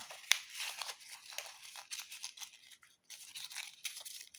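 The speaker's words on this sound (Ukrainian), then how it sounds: "просто взяти шматочок папіру і зім'яти його ось так" A small piece of paper crumpled by hand, close and quiet, with crisp crackling rustles and one sharp crinkle early on, continuing in short bursts with brief pauses and no talking.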